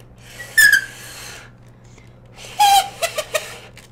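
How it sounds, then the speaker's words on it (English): Stretched plastic pulled hard and used as a whistle, in a video game setting, gives two sharp squeaky whistles separated by a pause, the second followed by a few short squeaks. "Instant whistle. You know, just in case you are in need of a whistle."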